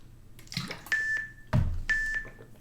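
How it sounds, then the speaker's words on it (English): A workout timer gives two clear, moderately loud electronic beeps about a second apart, each a sustained steady tone, mixed with nearby clatter and thumps in a quiet room, and no voices. "You hear that timer?"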